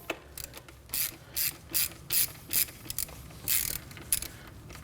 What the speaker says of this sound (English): using a long extension, we want to go ahead and take this cap off